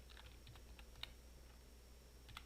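A few soft computer keyboard keystrokes are tapped out slowly and faintly in a quiet room, with one slightly louder press midway and a small closing burst of keys, and no talking.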